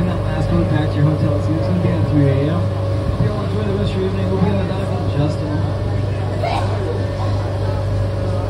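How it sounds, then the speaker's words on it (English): Steady engine drone and rumble of a boat ride near a resort in Orlando, a constant low hum throughout with faint background voices and chatter. "Going on the boat, guys."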